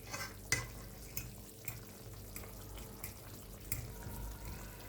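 Chicken wings cook in spices in a pan with a quiet, steady sizzle, broken by a few sharp clicks and scrapes as the pieces are stirred, faint and close.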